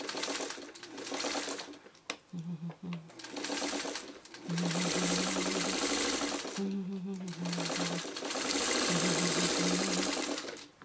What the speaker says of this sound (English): let's sew these two together